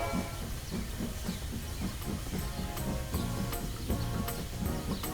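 A cartoon train sets off with a steady mechanical clatter and rhythmic chuffing, hissing steam over a low rumble, continuous and close for the whole stretch with no talk.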